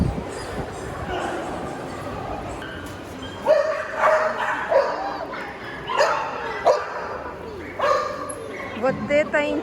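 Several dogs at a KKC dog show in Korea yip, bark and whimper in short bursts, close and loud, while people chatter excitedly around them.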